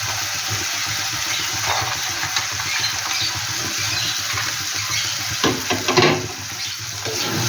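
Drumstick stalks frying in oil and spice paste for a fish curry, giving a steady close sizzle with a few louder stirring scrapes near the end and no talking.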